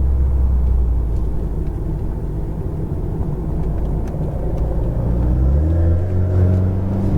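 Alpine sports car engine under hard braking, a loud steady rumble that shifts pitch near the end as the car slows, with no talk over it.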